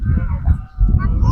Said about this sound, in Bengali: কাছে আসতেছে হাঁসগুলা, ওই যে হাঁসগুলা।